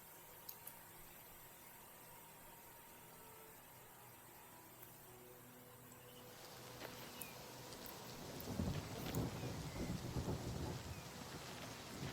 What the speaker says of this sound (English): Got some rain.